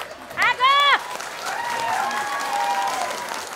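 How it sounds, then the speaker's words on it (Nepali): A comedy club audience breaks into applause right after a voice speaks briefly at the start; the clapping swells into a steady crowd sound for a few seconds. "सबै ऋण लागाले ताली बजायो नि,"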